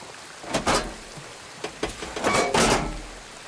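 Water from a pipe in Horizon Forbidden West rushes and splashes in uneven surges, fairly close, with no voices.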